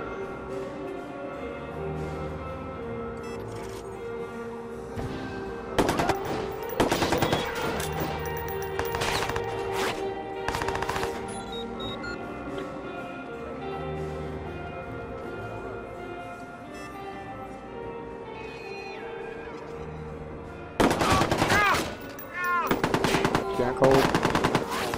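Automatic gunfire from the Watch Dogs video game rattles out in dense, loud bursts, one cluster early and another near the end, over a steady hum of in-game ambience.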